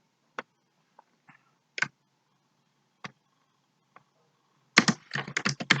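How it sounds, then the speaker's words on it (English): Typing on a computer keyboard while coding a website: a few sparse, crisp single key clicks spaced apart, then a quick closely packed burst of keystrokes at the end, near and quiet otherwise. "I'll type classes manually."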